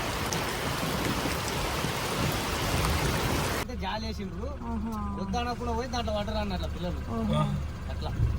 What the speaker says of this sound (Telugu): దారిలో అయితే చాలా వర్షం స్టార్ట్ అయిపోయింది